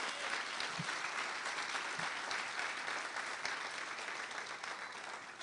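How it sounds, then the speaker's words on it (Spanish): A church congregation claps together in a steady, dense wash of applause heard from some distance, fairly quiet overall and easing slightly toward the end. "Vamos a darle fuerte aplauso a Jesús, iglesia."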